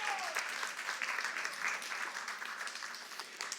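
A church congregation claps together in a steady, dense wash of applause during a Spanish-language worship service, moderately distant and filling the whole moment without speech.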